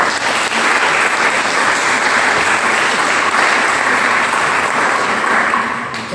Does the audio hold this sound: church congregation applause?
yes